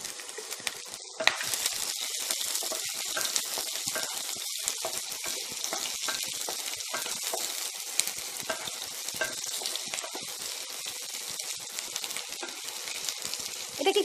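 Chopped onion with whole coriander drops into hot oil and breaks into a loud, dense, steady sizzle that carries on without letup, with a brief clatter at the start and no talk.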